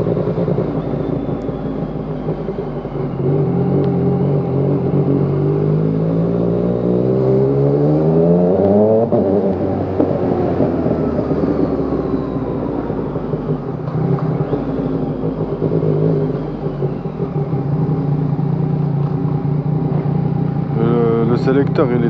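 Yamaha MT-09 motorcycle fitted with a quickshifter and an Arrow exhaust, revving loud and close, rising and falling sweeps of engine pitch up to a sharp peak before settling into a steady drone, with a voice talking over it.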